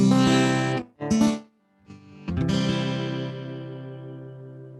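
Distorted electric guitar chords ring out loud, broken by a short silence, then a final chord sustains and slowly fades away.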